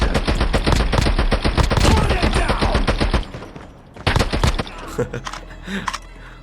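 A TEC-9 submachine gun rattles off rapid automatic bursts in the Call of Duty Mobile shooter game, loud and dense for about three seconds, then a few shorter bursts follow with some clicks and someone talking.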